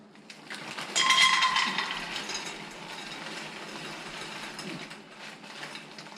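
A stove knob is turned on to heat a saucepan holding a little water for blueberry sauce, giving a quick burst of ratcheting clicks followed by a softer, steady hiss.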